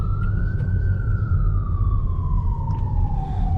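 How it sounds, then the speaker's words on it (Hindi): An ambulance siren wails steadily and loudly as it passes through traffic on a Malaysian highway between Kuala Lumpur and Penang, heard from aboard a double-decker bus over a constant low road rumble. "एम्बुलेंस जा रही"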